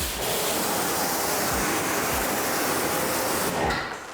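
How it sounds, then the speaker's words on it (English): Water sprayed onto the paint of a car, a continuous loud hiss of spray lasting several seconds before cutting off near the end. "let's put a bit of water on it here"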